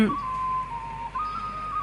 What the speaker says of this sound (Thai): ตลอดลำน้ำเซ็งแซ่ไปด้วยเสียงของผู้คน เสียงนกหวีด เสียงฮึดอ้าวฮึด ดังบอกจังหวะสนุกสนาน